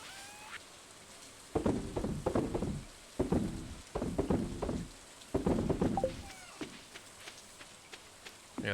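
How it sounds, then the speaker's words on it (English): Rain falling in the Stardew Valley farming game, heard as bursts of steady pattering hiss broken by gaps, with faint chime-like game tones between them and no talking. "Because it's raining"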